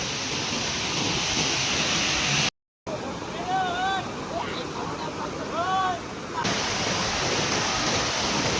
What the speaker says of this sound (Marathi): सुभेदार धबधबा आपण पोचलेलो फायनली पाणी बघा पाणी बघा